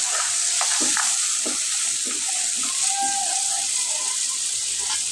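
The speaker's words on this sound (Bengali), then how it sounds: "আমি ভালো করে মরিচ মশলাটা কষিয়ে নিচ্ছি" Ginger, onion and garlic paste fried with chili spices in a pan gives a steady close sizzle with occasional stirring scrapes, and a voice speaks faintly in the background.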